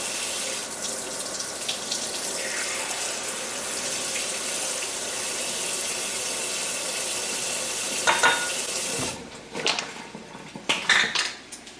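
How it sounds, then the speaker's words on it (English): Chia seeds and a quarter cup of water being stirred with a spoon in a kitchen, a steady wet swishing and light scraping that runs throughout, followed near the end by a few sharp clinks of the spoon against the bowl. "And then just grab a spoon, stir it up."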